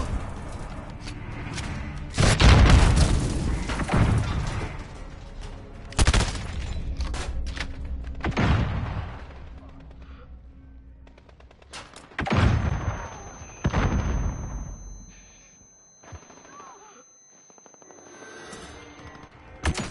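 Cruise missile strikes land in the video game Modern Warfare, a string of loud, booming blasts and crackling gunfire bursts spread across the span, with brief quieter gaps between heavy impacts.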